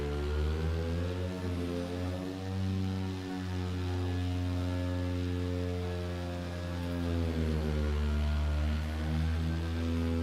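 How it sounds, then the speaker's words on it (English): A Jetson 1 electric aircraft in Microsoft Flight Simulator 2024, a steady, loud, low droning buzz rich in harmonics that drifts slightly in pitch, sustained throughout with no talking. "Oh, it's that thing. It's the Jetson 1."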